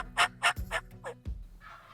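A wild turkey gobbler gobbles in a creek bottom, a rapid run of four or five loud, rattling notes followed by a fainter trailing call, heard outdoors with no talking.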